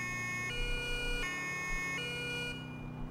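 An ambulance siren in a GTA IV police mod wails, sweeping up and down in steady cycles over a low engine hum, fairly clear and continuous, with no talking.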